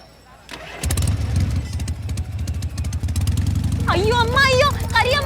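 A motorbike engine cranks with a click and a rough catch, then settles into a loud, steady idle close by, while a person talks over it near the end.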